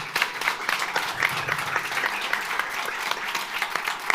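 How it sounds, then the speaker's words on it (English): Steady applause from an audience at a startup-ecosystem panel hangout, a continuous wash of many hands clapping at moderate loudness with no talk over it. "So a round of applause to these amazing guests and to our moderator."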